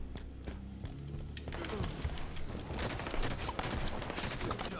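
Rapid gunshots from Halo 5 in a Swat match, dense bursts of fire after a quieter opening, loud and close, with a few faint game sounds in the background.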